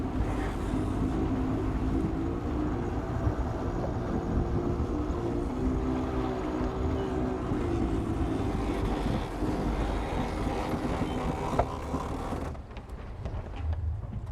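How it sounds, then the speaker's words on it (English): Catamaran engines running under sail, a steady broadband drone with low rumble lasting most of the clip, mixed with wind noise, before dropping off near the end. "Let me turn on the engines."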